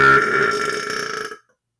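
A single loud, drawn-out human belch rumbles for over a second before cutting off abruptly into silence.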